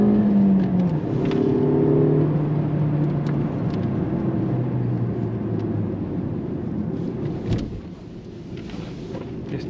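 A used car pulls away briskly on a test drive, the engine note rising through the first seconds before settling into a low road rumble.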